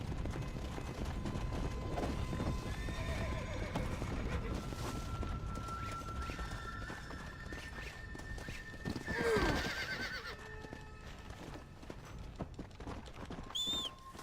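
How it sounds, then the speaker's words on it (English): A video game horse whinnies and neighs several times over a steady run of galloping hooves, fairly close and loud, with no talking. "this horse is just fucking running away from me"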